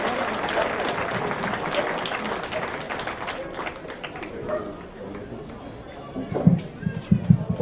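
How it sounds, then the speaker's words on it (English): Audience applause for a live band at a family celebration, a steady wash of clapping mixed with crowd chatter and voices throughout, with a few louder claps near the end. "we send that applause to the band"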